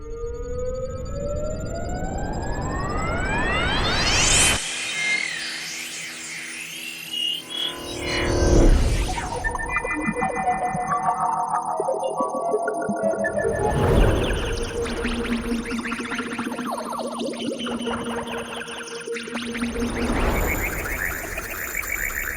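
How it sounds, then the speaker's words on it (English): A synthetic sound effect meant to evoke a bionic eye: a rising electronic sweep, then layered tonal drones, pulses and bursts that swell and fade over about twenty seconds. "Perhaps that is the sound of a bionic eye."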